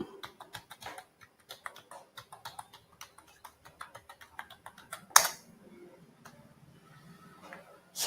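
Keys tapped on a computer keyboard while entering a password, a quiet, irregular run of light clicks over about five seconds, then a louder burst and near silence with faint low hum.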